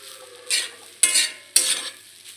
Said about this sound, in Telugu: అన్నాన్ని ఈ వెజ్జీస్లో వేసుకొని బాగా కలపండి